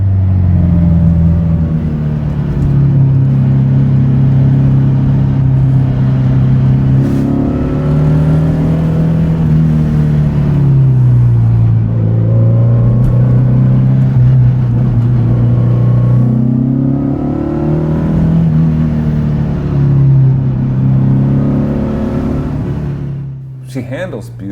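A 240hp Porsche 356 B Coupe engine drones loudly from inside the car, its pitch rising and falling as it pulls through the revs, with talk over it.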